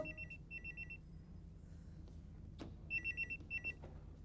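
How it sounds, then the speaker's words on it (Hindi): A phone rings with a warbling electronic trill in two pairs of bursts separated by a pause, fairly quiet over background noise. "संदीप फोन है तुम्हारे लिए"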